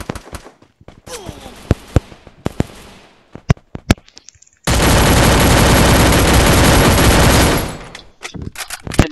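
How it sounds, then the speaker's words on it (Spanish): Gunfire aimed at the player in the video game Free Fire: scattered sharp shots, then a sustained loud burst of automatic fire lasting several seconds before tapering into a few more isolated cracks. "¿Vieron que me están disparando también?"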